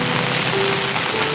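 Heavy rain pours down on a waterlogged Dum Dum street in Kolkata, a dense, loud, continuous wash of hissing drops on surfaces, with no talk.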